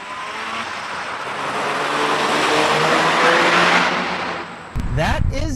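A Mazda RX-7 FD with a twin-turbo rotary engine roars loudly as it accelerates, the engine note climbing steadily, then a gearshift breaks the pull and the revs drop and rise again.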